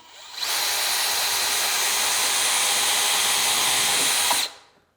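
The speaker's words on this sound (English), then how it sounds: "Just puts in a nice little hole." A power drill bores pocket holes through a jig into baseboard trim, a single loud, steady whine lasting about four seconds before spinning down, close up with no talking.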